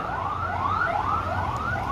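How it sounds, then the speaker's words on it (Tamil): Ambulance siren on a street, a loud wailing tone sweeping up and down in repeated cycles, steady and close over a low traffic rumble. "ஆம்புலன்ஸ் வர போச்சு"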